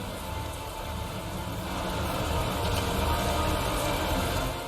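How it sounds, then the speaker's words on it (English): Heavy downpour in the game Tales of Zestiria, steady and loud rain hissing across a broad band with dense drop patter, continuous throughout and swelling slightly midway, with no talking. "This is some rain."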